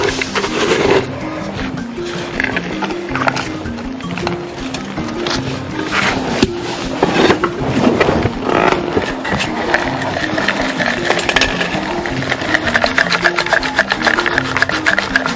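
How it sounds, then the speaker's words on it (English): Cassava flour being sifted through a wooden box sieve, giving a steady, continuous rubbing and rasping scrape close by, with rhythmic back-and-forth strokes running the whole time and no talking. "I'm sifting so the finer particles will be coming from down."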